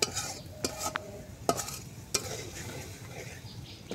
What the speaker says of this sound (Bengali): আমি এমনভাবে নাড়াচাড়া করলাম, মিশাই নিচ্ছি।